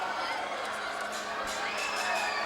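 A packed gym crowd at a 2009 state boys high school basketball game, Wayne Hills against West Milford, roars steadily during a free throw, a dense wash of cheering and shouting with no break.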